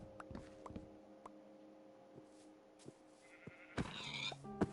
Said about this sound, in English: should I kill that sheep?